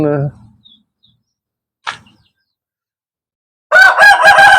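A loud rooster crow bursts out near the end, preceded by a brief squawk and near silence.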